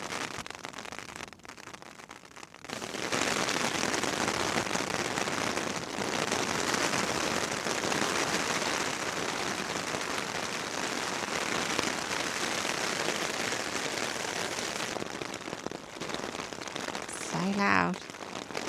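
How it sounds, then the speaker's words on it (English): Dense, steady patter of rain on a tent during a solo winter wild camp on Rannerdale Knotts near Buttermere in the Lake District, close and loud, starting after a brief quiet moment with a short voice near the end. "now it's raining"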